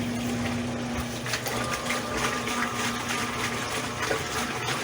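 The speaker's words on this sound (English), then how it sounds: "it's going to slosh" Water sloshes and churns in a bottle with a steady motorized hum underneath, a continuous close, busy watery swishing with no breaks.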